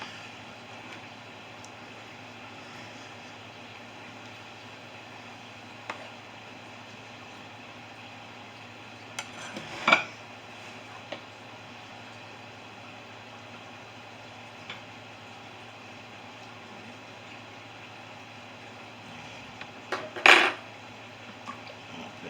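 Faint scrapes and a couple of clinks from pork chops and rice being served onto a plate, heard as sparse utensil knocks over a steady low kitchen hum.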